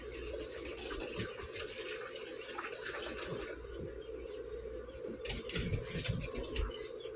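Water runs steadily from a kitchen tap while something dropped on the floor gets rinsed off during apple fritter bread pudding prep, a faint continuous splashing stream with no talking.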